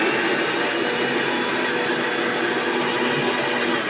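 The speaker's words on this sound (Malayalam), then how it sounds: "ഇനി നമുക്ക് ആദ്യം മിക്സിയിലിട്ടൊന്ന് അടിച്ചെടുക്കാം." Close and loud, a mixer grinder blends mayonnaise as oil goes in, giving a continuous dense whirring roar that holds steady throughout with no voices over it.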